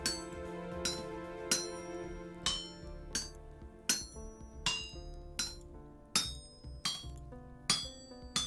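Hammer strikes on a chisel in the game Vintage Story, about a dozen sharp metallic clinks at a steady rhythm, each ringing briefly, close and clear with no talk.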